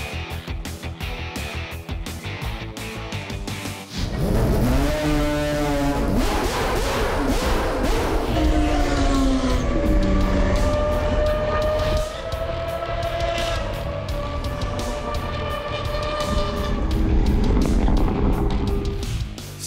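Mazda RX rotary-engined cars at a rotary enthusiasts' gathering, a loud engine revving and rising in pitch, then sustained high-revving drone with repeated throttle blips.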